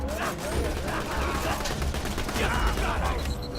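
Continuous automatic gunfire in the video game Borderlands 2 rattles through a dense, chaotic combat mix lasting the whole stretch, loud and busy, with voices faintly present under the shooting.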